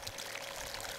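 Water pours steadily from a distributor bar onto a gold sluice at the Polymet Potala gold mine, a continuous close rushing wash with no voices.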